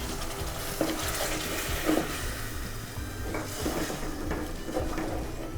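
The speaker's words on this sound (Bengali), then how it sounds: "পানি দিয়ে কষিয়ে নিতে হবে।" A spice paste for a taro root and shrimp curry cooks down with a little water in a pan. A gentle bubbling sizzle sounds under scattered spoon scrapes and stirring knocks, heard close and fairly quiet.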